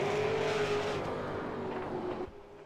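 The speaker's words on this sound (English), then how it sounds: "Amazing speed you get out of these V8 supercars at this track" A V8 Supercar races past at speed on the Imola circuit, its engine roaring loud and close with a steady high-revving drone that fades as it pulls away.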